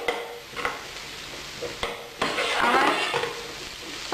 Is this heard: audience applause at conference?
no